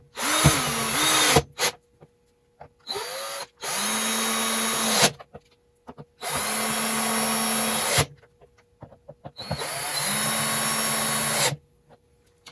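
Power drill driving screws into the particle board of a Lafayette Radio Criterion 444 speaker cabinet, four loud whirring bursts of one to two seconds each, with the motor pitch winding up and dropping as each screw seats, separated by short pauses.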